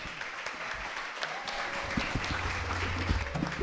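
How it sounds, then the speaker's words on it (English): An audience claps steadily for a few seconds at a book chat, a dense, even wash of applause at moderate volume with no voices over it. "Please let's give them a round of applause."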